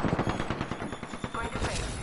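Rapid video-game gunfire in a dense burst of repeated shots, steady and loud throughout, with someone talking over the shooting.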